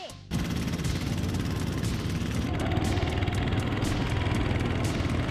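Go-karts at a karting track roar past continuously, a loud dense engine drone with rattling, buzzing texture that starts abruptly and holds steady throughout.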